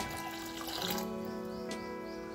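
Water pours from a glass into a pot of sambar with a soft, steady splashing trickle, faint and close, with no talking.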